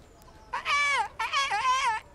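A person sings an imitation of a chirping pet bird's tune in two short, warbling phrases, high and clear against a quiet background.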